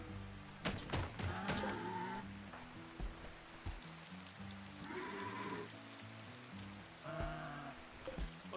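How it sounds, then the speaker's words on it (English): Rain falling in the RimWorld colony game, a soft steady patter under layered in-game music tones and occasional clucking fowl, moderately quiet throughout. "Oh, I'm glad it just started raining."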